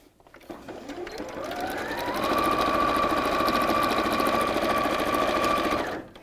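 A sewing machine stitches the corners of a pleated fabric bag, starting with a quick ramp-up then running at a steady fast whir for several seconds before stopping abruptly, close and alone.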